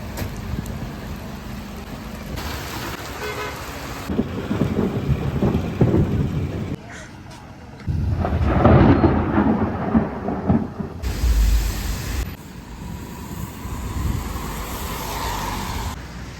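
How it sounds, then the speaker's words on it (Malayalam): A thunderstorm over the Chikkamagaluru highlands brings loud, rolling thunder that swells into a deep rumble midway, over steady rain and wind noise with passing cars in the background. "കാരണം അത്രയ്ക്ക് ഇടിമിന്നലാണ്"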